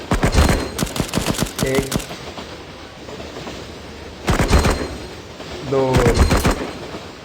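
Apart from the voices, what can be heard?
gunfire in the video game Cover Fire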